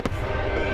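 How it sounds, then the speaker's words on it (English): A brief deep boom of fireworks bursting at a gala display at Belvoir Castle, timed to music, over a dense, continuous wash of music and crowd noise. "Thousands of explosions lighting up the sky, each firework carefully timed to the beat of the music."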